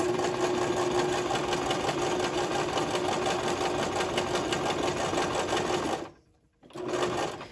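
A Brother LX2375 sewing machine running a tight straight stitch, a fast steady mechanical whir with rapid needle ticking, close and continuous, then a brief stop before it resumes.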